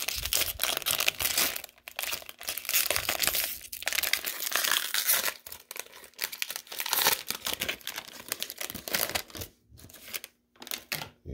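Foil wrappers on 2020 Playoff football card value packs are ripped open up close, with loud, continuous crinkling and tearing in bursts and brief pauses between packs.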